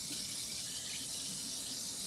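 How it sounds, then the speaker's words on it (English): Tap water runs steadily into a sink as a cucumber is rinsed, making a continuous close hissing splash with no talking. "Quick run under the water."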